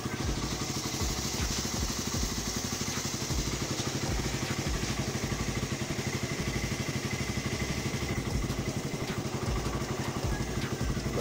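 A Suzuki Raider R150 motorcycle with a DIY full-wave setup and carburetor runs steadily close by, its engine holding a rough, clattering note that stays level without climbing despite revving.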